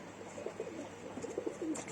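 Soft, low cooing from pigeons or doves repeats in short phrases against a quiet, hissy background.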